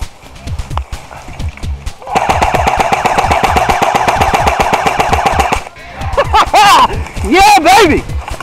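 Rapid automatic gunfire rattles loudly in the War of the Damned video game, a sustained burst followed by more shots, while players talk over it.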